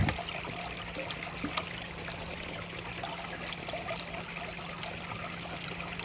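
Water runs through a gold prospecting sluice box set in a stream, a steady close trickling and splashing with a faint low hum beneath and a few small knocks.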